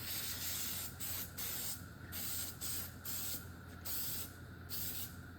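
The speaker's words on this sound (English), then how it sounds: "I don't know why I'm spraying the back of this right now" Contact cement adhesive is sprayed onto foam for a custom Peterbilt 389 truck headliner in short repeated hissing bursts, about seven bursts with brief gaps between, close but quiet and with no talking.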